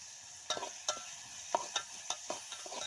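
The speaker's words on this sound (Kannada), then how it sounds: "ಬೋಗಣ್ಯಾಗ ರೀ ಎಲ್ಲ ರೀ ಎಣ್ಣೆ ಉಳ್ಳಾಗಡ್ಡಿ ಅದು ಎಲ್ಲ ಫ್ರೈ ಮಾಡ್ಕೊಳಕತ್ತೀನಿ ರೀ" Onions and ridge gourd frying in oil in a pot, with faint steady sizzling broken by several sharp clacks and scrapes of stirring, close and moderately quiet.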